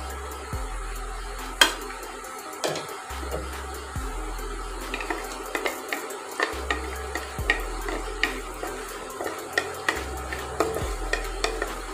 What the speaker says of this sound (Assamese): ইয়াতে মই এতিয়া প্ৰথমে ড্ৰাই ফ্ৰুটছ লৈছোঁ এয়া বাদাম আৰু এয়া কাজু বাদাম এইখিনি মই এতিয়া ভাজি ল'ম